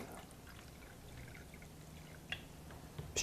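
Soda water is poured, giving a faint, steady hiss and trickle with a few small splashes and drips near the end.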